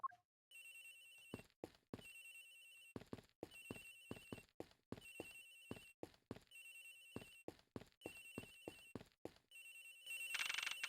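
A telephone rings in the Ace Attorney Investigations video game, repeating in steady electronic bursts of about a second each, separated by short pauses, loud and alone with no talking.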